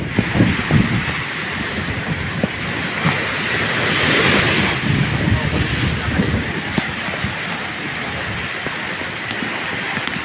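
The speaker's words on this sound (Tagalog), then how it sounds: "lupit ng alon" Heavy ocean waves churn in a steady rushing roar with some gusty, rain-like texture, swelling briefly midway and staying loud and close throughout.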